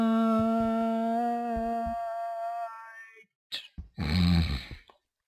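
A person vocally imitates snoring, producing a few drawn-out, throaty snore sounds close to the mic, separated by brief silences.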